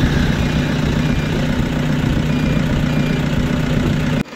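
Car with a weak, flat battery, jump-started from a power bank, its engine running at a steady, loud idle hum throughout before a brief drop at the very end.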